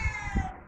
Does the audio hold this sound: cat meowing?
yes